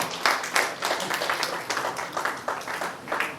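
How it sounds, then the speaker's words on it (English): Audience applause at an alumni association annual general meeting, a steady patter of many hands clapping in bursts that swell and fade, fairly close and with no talk over it. "Please give them a round of applause."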